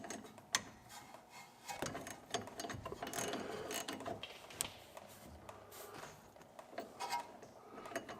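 Quiet, close ratchet clicking comes in short bursts while a brake hose banjo fitting is loosened on a 1969 Mustang that sat abandoned for 32 years, with a few mechanical clunks in between.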